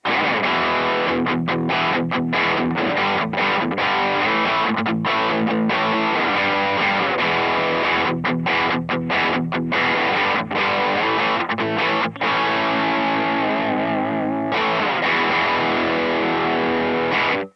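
Loud, heavily distorted electric guitar through a Mackie Showbox plays a continuous high-gain riff with chugging chords and sharp, rhythmic stops. No voices.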